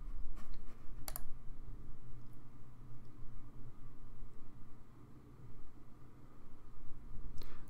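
Keys clack on a computer keyboard in short bursts while an email address and password are typed in for a Gmail login, soft and close against a quiet hiss of room noise.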